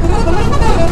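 A bus blaring its horn on a highway near a toll plaza, one loud, sustained, close honk lasting the full second over road noise.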